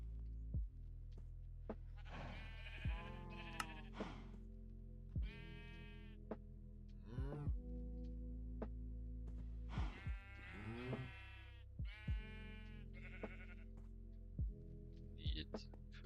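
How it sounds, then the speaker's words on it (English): Repeated sheep bleats from the GregTech New Horizons Minecraft modpack, several overlapping calls in bursts over a constant low drone and regular thudding beats, with no one talking. "Ignore the sheep action in the bottom left corner."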